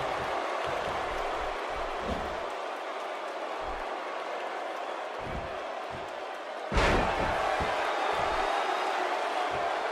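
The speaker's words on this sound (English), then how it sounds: "Another electric crowd on hand here for SmackDown, as has been the norm over the years." Arena crowd at a WWE SmackDown wrestling show, a steady roar with intermittent thuds, swelling suddenly into louder cheering near the end of the clip.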